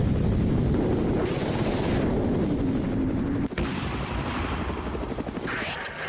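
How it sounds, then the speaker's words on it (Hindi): Russian military attack helicopters thunder close and loud in a war zone, rotor beat dominating throughout, with a sharp blast-like impact midway and rattling bursts suggesting gunfire as they strike Ukrainian positions. "रूसी जंगी हेलीकॉप्टरों ने यूक्रेन की सेना के एक मजबूत गढ़ को तबाह कर दिया"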